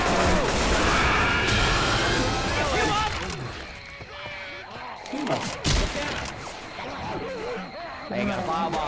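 Rapid gunfire crackles in Left 4 Dead 2, with dense bursts and crashes early on and scattered shots later, while voices talk over the action.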